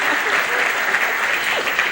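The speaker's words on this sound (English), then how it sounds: "just go ahead and clap" Applause from an audience at a Muscogee Creek Nation special election livestream event, a loud, steady wash of many hands clapping close by, with faint voices underneath.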